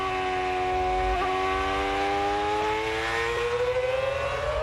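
Lewis Hamilton's Formula One race car, driven by Tony Stewart at Watkins Glen, screams in a high, rising engine whine, with a gear shift and the pitch climbing steadily under hard acceleration.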